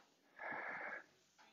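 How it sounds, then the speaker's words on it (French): A dog snores once, a single raspy, wheezing breath about half a second long, faint and close in an otherwise quiet room, with a softer breath following. "Chaque semaine, je vous embête avec mon chien qui ronfle."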